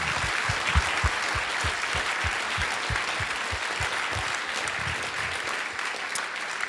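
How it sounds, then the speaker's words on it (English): Audience applause at the close of a science lecture on creating life in the lab, a steady wash of clapping that carries on evenly throughout with no talk over it. "And so I think a round of applause for them as well as for our speaker."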